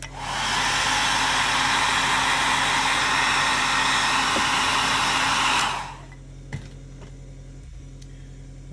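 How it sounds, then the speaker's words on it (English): A hair dryer blows loudly and steadily for several seconds, drying liquid masking fluid on a studio-scale Y-Wing model, then switches off, leaving a quiet room with a few small clicks and handling sounds. "I'm just going to dry this liquid mask with the hair dryer just to dry that last bit up."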